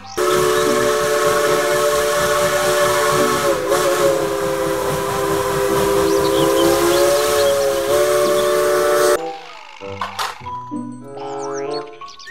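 A loud, sustained steam train whistle with hissing from a Thomas toy train, held for several seconds, then stopping abruptly into quieter mechanical toy sounds.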